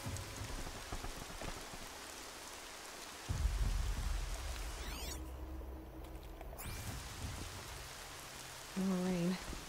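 Steady rain patters on a surface throughout in the video game Horizon Zero Dawn, fairly quiet, with a brief whoosh midway and a short tonal beep near the end.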